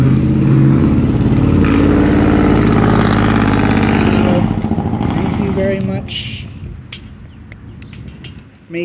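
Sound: loud engine of a passing vehicle with a noisy exhaust

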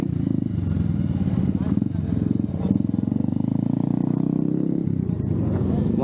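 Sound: motorcycles performing freestyle stunts at a drag racing event

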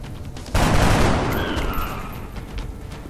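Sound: gunfire in XCOM Enemy Unknown video game

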